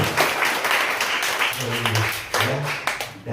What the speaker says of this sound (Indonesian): berikan tepuk tangan itu.